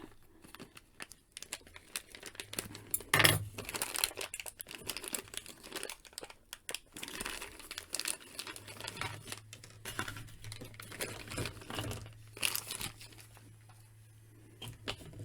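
A plastic baggie of accessories from a Justice League superhero action figure four-pack crinkles and rustles close up in steady, busy bursts for the whole stretch, with no talk.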